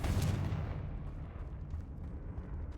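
A Confringo blasting-curse spell effect: one sharp explosive burst right at the start, then a low rumbling decay that lingers at moderate volume for a few seconds.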